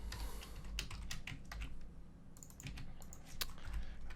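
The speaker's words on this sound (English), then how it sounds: "Awesome typing here." Someone types quickly on a computer keyboard, a quiet run of clicky keystrokes with short pauses, close by and without talk, while coding a Python algorithmic trading program.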